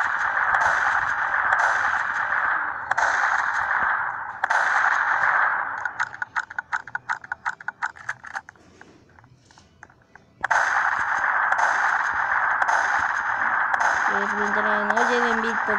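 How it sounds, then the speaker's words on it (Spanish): Rapid gunfire bursts in the video game Prison Life, a dense string of sharp game shots crackling between loud stretches of in-game noise, with a voice talking over parts of it. "¿por qué carajo está disparando para atrás?"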